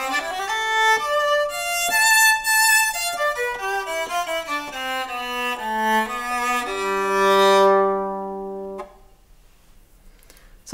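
A violin fitted with a practice mute plays a run of muted, narrow-toned notes descending in pitch, ending on a held low note and then a brief silence, with no talking.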